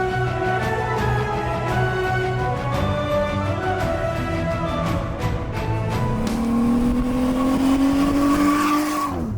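A modified Jeep Gladiator Viking Iron Side pickup drives on the road with a loud, continuous engine drone that climbs steadily in pitch as it accelerates near the end, and no talking over it.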